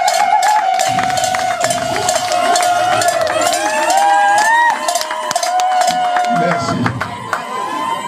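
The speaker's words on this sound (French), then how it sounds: "désormais Majesté Mefouk, à qui je vous demande de faire des applaudissements longs." A crowd at an enthronement ceremony applauds in dense, continuous clapping with scattered cheers, while a sustained high tone, probably a horn or whistle, sounds over the top throughout.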